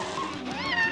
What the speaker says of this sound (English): Reflect on the dramatic kitty stomp.